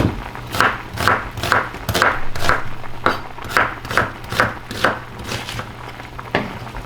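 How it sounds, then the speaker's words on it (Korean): A knife slices an onion on a cutting board for pork kimchi stew, with about a dozen crisp, evenly spaced strokes that are close and clear, and no talk. "양파 하나도 이렇게 써서 넣어주시고요."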